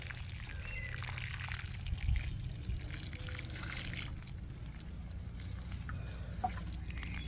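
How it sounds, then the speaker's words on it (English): Water pours steadily over dwarf tomato plants in a GreenStalk vertical planter, a continuous soft splashing trickle that runs close and unbroken throughout. "another douse for these tomatoes so that I can make sure they are nicely"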